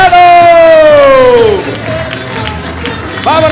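An audience at a comedy show at César Manrique Cultural cheers as performers return to the stage: a loud falling whoop opens, crowd noise and light clapping follow, and another rising cheer comes near the end.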